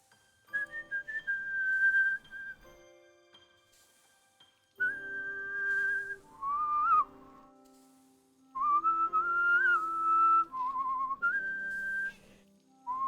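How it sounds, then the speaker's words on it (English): A person whistles a melody along with music from the game Harvestella, clear sustained tones in phrases separated by pauses, with faint soft music underneath. "I would like to just whistle to the pretty music"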